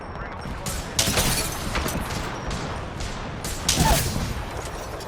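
Rapid bursts of gunfire in the Apex Legends video game as shots strike an enemy shield, dense crackling volleys with louder peaks near the start and end, game effects underneath.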